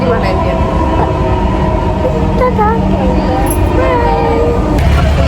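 A metro train in Dhaka rumbles steadily at close range, loud and continuous, with an announcement voice speaking over the noise.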